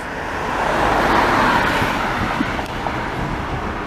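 Rush hour traffic on a busy Montreal street in October, with steady car and road noise swelling and easing as vehicles pass close by, no voices over it.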